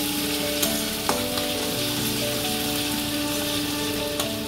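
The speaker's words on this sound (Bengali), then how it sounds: "একটু নেড়ে নিচ্ছি আদাটা।" Ginger and green chilli paste frying with onion in a pan, a dense steady sizzle like rain with a few scraping knocks as it is stirred, close and loud.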